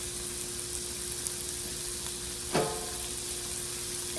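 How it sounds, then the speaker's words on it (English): Pork sausage frying in a pan gives a steady, moderate sizzle throughout, with a brief louder clatter partway through as it is moved or stirred. "I'm gonna take this pork sausage and I'm gonna cook this up"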